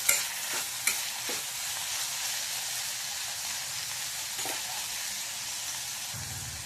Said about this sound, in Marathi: छान परतून घ्यायचं आहे आपल्याला.